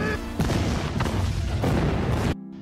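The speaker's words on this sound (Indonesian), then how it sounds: "Ledakan di gedung itu" A building explosion in a Korean TV drama booms as a dense, rumbling blast with layered crackling debris and rolling bursts, loud and sustained for about two seconds before cutting off abruptly.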